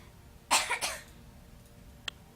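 Someone coughs two or three times in quick succession, close and fairly loud, followed by a brief sharp sound a moment later over a quiet background.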